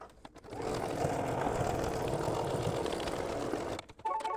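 An embroidery sewing machine runs a steady, fast stitching buzz for about three seconds while tacking down fabric on an in-the-hoop mug rug, with brief clicks and handling at the start and finish.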